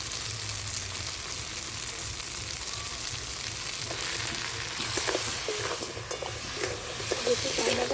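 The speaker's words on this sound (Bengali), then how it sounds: "মশলার উপরে ক্যাংড়াটাকে খুব সুন্দর করে কষে নিতে হবে।" Crab sizzles steadily as it is stir-fried in spices, a constant close frying hiss with occasional scraping stirs and clinks toward the end.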